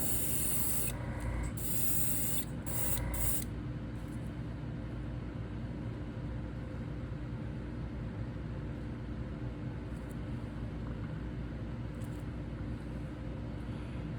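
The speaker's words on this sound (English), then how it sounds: "Spray, make sure we're spraying it out, and then I'm just going to coat the lure." A continuous loud hiss of spray from an airbrush or spray gun painting a fishing lure runs throughout, with a few brief clicks and pauses near the start.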